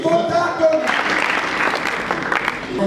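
A church congregation at a funeral claps in a steady burst of applause that swells after a brief spoken line, many hands close and loud together.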